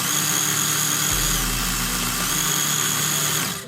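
A toy RC drift car, a Nissan Skyline GTR R34, whines steadily with its electric motor held close, and the pitch shifts partway through as its speed changes before it fades at the end.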